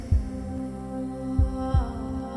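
A film heartbeat sound effect gives three deep, soft thumps at an uneven pace over a steady low hum, close and muffled.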